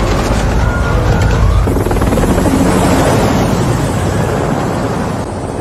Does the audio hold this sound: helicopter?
yes